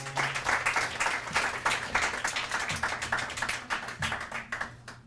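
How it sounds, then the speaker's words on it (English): An audience at a high school poetry night claps steadily for several seconds, a dense rattle of many hands at moderate loudness that thins out at the end. "One more round of applause."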